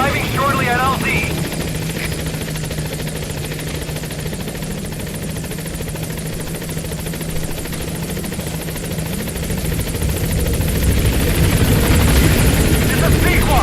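The Pequod helicopter in Metal Gear Solid V nears a landing zone, its loud rotor thrum and engine buzz continuing throughout, with radio voices talking over it.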